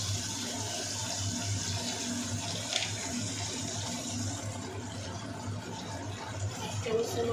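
Water pours steadily into banana flower curry being stir-cooked for a Bengali dish, a soft continuous splashing and hiss at close range with no speech.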